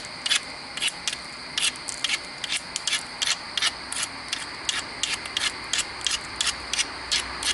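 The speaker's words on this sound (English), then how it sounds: "So keep grinding off all those loose spots that want to be there." Dacite flint-knapped biface edge being ground, a quick series of short, bright scraping strokes in an uneven rhythm, close and fairly quiet, with no voice.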